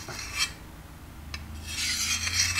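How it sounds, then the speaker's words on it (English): Rasping strokes of a hand file sharpening a lawn mower blade, one short stroke near the start, another brief one mid-way, then a longer sustained scrape toward the end, close and moderately loud with no voices. "I'm just going to come in with that file, and I want to find that angle, and I just want to maintain it and go across"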